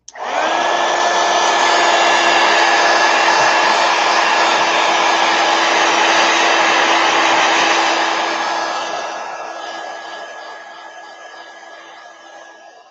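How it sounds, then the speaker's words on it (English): A heat gun blowing over watercolor artwork: a loud, steady close whooshing roar with a constant motor whine, holding for about eight seconds and then winding down as it is switched off. "Heat gun."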